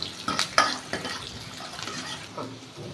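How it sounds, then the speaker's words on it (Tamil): Dried red chillies and cumin fry in oil for a garlic chutney, giving a soft sizzle with a few sharp stirring scrapes and clinks near the start, then quieter crackling. "எண்ணெயிலே போட்டு நம்ம கொஞ்சம் நேரம் வறுபட விடலாம்"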